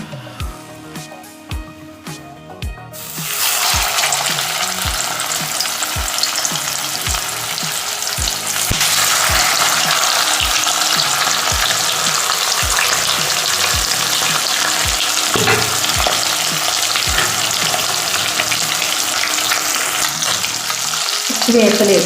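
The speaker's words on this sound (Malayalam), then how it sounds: "നമുക്ക് മീനിന് വറുത്തെടുക്കാം." Mackerel frying in oil in a pan with curry leaves, a loud continuous close sizzle and crackle after a brief quieter start, with regular soft clicks underneath and no speech.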